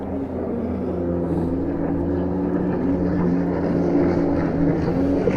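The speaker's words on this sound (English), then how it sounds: "It's the jet ski gang." Jet skis run on a river, giving a loud, continuous engine drone with a steady tonal hum that holds throughout as they pass nearby.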